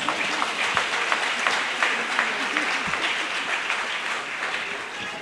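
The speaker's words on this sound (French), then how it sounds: "Applaudissez." An audience at an official foundation launch event breaks into applause, a broad wash of many clapping hands with some sharper individual claps, moderately loud and gradually easing off.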